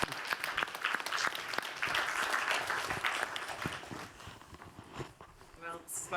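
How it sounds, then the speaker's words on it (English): Applause from a health summit audience welcoming a speaker, a dense burst of clapping that thins and fades toward the end as a voice begins. "Please give her a round of applause."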